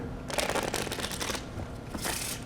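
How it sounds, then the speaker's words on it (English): Playing cards shuffled together face up during a promotional card tutorial, a crisp riffling burst that builds, pauses briefly and then returns in a second flurry, close and fairly loud with no talking. "I'm going to shuffle these cards together"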